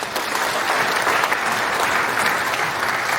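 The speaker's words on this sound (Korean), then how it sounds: "박수 한번 보내주십시오." Dense, steady audience applause fills a joint worship service of the Korea Military Academy Christian fellowship, sustained at an even, fairly loud level from start to finish.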